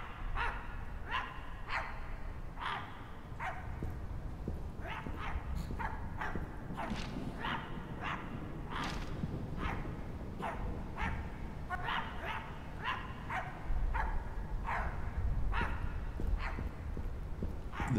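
Repeated sharp dog barks in a video game, My Friendly Neighborhood, come in an irregular series of bursts over a steady low ambient hum, fairly close and clear, with no talk.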